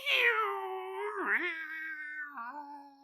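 A human voice imitates cats fighting, giving a drawn-out, wavering yowl that dips and rises in pitch for about three seconds, loud and close.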